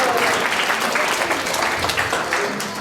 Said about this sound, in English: Can we have one more round of applause for all the